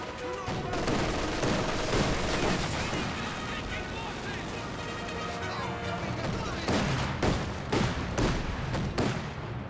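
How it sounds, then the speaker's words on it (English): Battle sounds from a Company of Heroes 2 match, with repeated Panzerfaust blasts, rattling gunfire and explosions forming a dense, continuous din under a caster's commentary. "right squads are seeing some sheer Panzerfaust fire"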